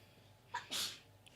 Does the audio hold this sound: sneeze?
yes